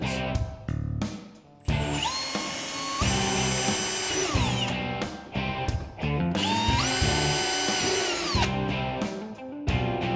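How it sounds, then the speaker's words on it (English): A power drill whirs loudly up close in two long bursts, drilling holes in a snowmobile sled frame, its pitch rising and falling, with short clicks and handling noises before and between them. "You're going to take your drill and drill these markings."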